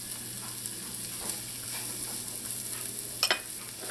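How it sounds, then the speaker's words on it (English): Chopped onions and peppers sauté in melted butter in a pan, a steady close sizzle with a soft crackling hiss and a brief louder clatter of stirring near the end. "Just let this saute in here for about a minute until that onion starts to get translucent."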